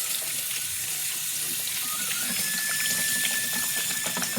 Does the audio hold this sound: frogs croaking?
no